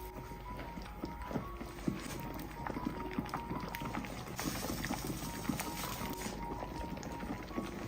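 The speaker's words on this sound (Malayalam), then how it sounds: "ഇപ്പൊ വെള്ളം തിളച്ചിട്ടുണ്ട്" Water at a rolling boil in a pot as pieces of rolled-out chapati dough are dropped in, a steady bubbling hiss with soft irregular plops and knocks throughout.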